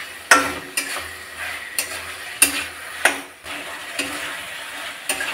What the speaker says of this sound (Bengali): এবার আমি ভাজা আলুগুলো এর মধ্যে দিয়ে দেবো, দিয়ে আর কিছুক্ষণ একটু নাড়াচাড়া করে নেব।